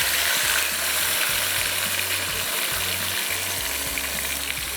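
Chicken fries in hot oil on a stove, a loud steady sizzle and crackle, with faint clicking mechanical sounds underneath and no talking.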